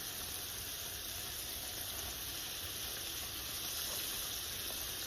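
Onion petals frying in oil in a skillet, giving a steady, even sizzle and hiss that stays faint and continuous throughout, with no voices.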